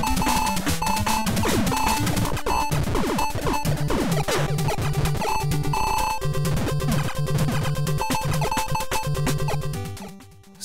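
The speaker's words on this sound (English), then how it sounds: "hitting the armored sections of bosses can cause a shrill, constant cacophony" Shrill, constant cacophony of chiptune sound effects from the NES game Blaster Master as shots hit a boss's armored sections, harsh buzzing tones piled over the looping music, loud and unbroken for about ten seconds before cutting off.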